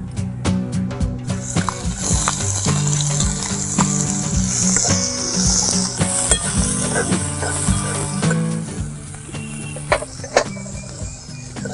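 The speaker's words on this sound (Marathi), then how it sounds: "आता आपलं लसूण लाल झालंय, त्याच्यावर आपण कांदा परतायचा आहे." Chopped onion sautéing in hot oil over already browned garlic in a pan on a wood-fired stove, a steady close sizzle with scraping and stirring clatter throughout.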